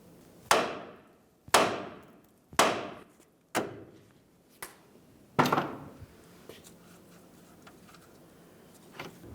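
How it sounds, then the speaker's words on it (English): A hammer strikes the steering knuckle of a 2010-2013 Ford Transit Connect to shake the outer tie rod end loose, giving about six sharp metallic bangs spaced roughly a second apart, close and loud, then a quieter tail. "We're going to give the knuckle a couple loving bonks right along this area"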